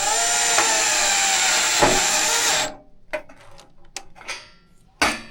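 A Milwaukee subcompact installation driver whirs steadily at high speed driving a screw, then stops abruptly, followed by a few short clicks and taps close by.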